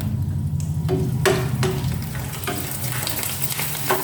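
Frying in hot oil in a pan, a steady close crackling sizzle with occasional sharper pops and clinks of stirring, no talk.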